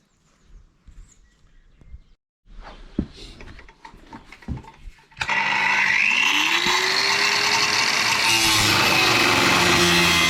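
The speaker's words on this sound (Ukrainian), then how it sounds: "Зараз буду пробувати вирізати болгаркою." A loud, steady whine of an angle grinder cutting out a metal disc, preceded by a few scattered knocks and clatters, running continuously to the end.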